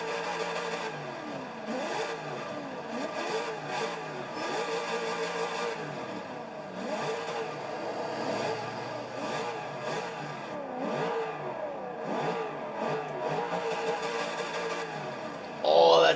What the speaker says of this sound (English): let's see how the Z06 from 2004 sounds